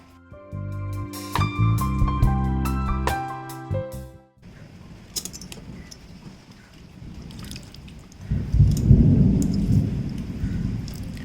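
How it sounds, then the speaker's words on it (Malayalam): A few seconds of music give way to heavy rain falling outside, a dense hiss with deep rumbling that swells louder near the end. "വെളിയിൽ നല്ല മഴ പെയ്തുകൊണ്ടിരിക്കുകയാണ് കേട്ടോ."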